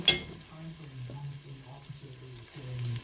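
Garlic frying in a pan and starting to caramelize while being stirred, giving a steady close sizzle with repeated soft scraping strokes and no talking.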